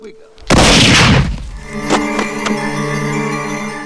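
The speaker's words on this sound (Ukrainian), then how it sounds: "зачіпає лапою курок рушниці і відбувається постріл" A single loud cartoon shotgun blast rumbles away, followed by a couple of lighter cracks and a lingering ringing tone.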